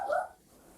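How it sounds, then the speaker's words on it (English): A dog barks once somewhere in the room during a township board of trustees meeting, a short, muffled bark at moderate distance that trails off into quiet room tone. "Sorry about the dog."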